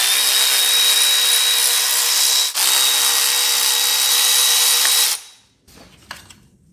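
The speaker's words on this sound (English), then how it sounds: "look at how easy it is to get the supercharger pulley bolt off with the fan out of the way if you have an impact" An impact wrench removes the supercharger pulley bolt on a Mercedes E55 AMG with a loud, continuous, close-up hammering whir for about five seconds, a brief dip in the middle, then it stops and faint clinks follow.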